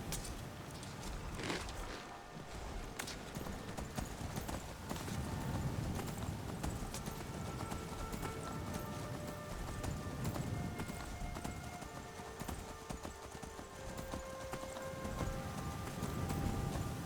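A horse named Snowstorm clip-clops steadily along in Skyrim, its hoofbeats a continuous rhythmic thudding over a low ambient game background.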